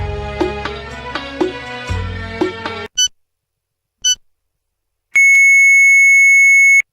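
Broadcast beeps marking the iftar fast-breaking time, two short tones followed by a long sustained tone, sounding alone after a passage of music.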